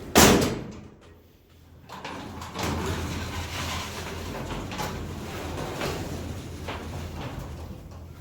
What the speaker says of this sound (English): these are manual doors and they are awfully heavy